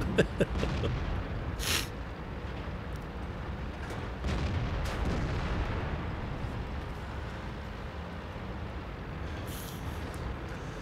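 Tank cannon fire in the World of Tanks video game: a few sharp booms spaced out over a steady rumbling engine and battle background, with no voices over it.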